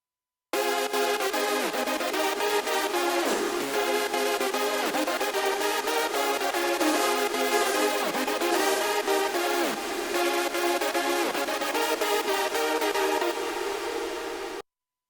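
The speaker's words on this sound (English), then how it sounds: "That the reverb only comes through in the parts where the lead is not playing." A dense synth lead in an electronic track plays continuously, with sidechained reverb swelling only in the gaps between its phrases.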